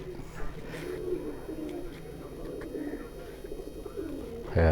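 A sturdy, strong-bodied racing pigeon coos in soft repeated low rolling calls nearby, with low murmuring and handling noises around it and a brief louder thump at the end.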